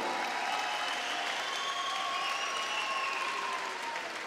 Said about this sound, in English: Ladies and gentlemen, a round of applause for these two fighters once again.